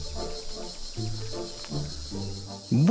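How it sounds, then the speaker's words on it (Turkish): Cicadas call in loud, buzzing, rhythmic pulses that repeat in quick bursts, with a steady high hiss running underneath throughout. "Ağustos böcekleri yalnızca çiftleşmek için gün yüzüne çıkarlar."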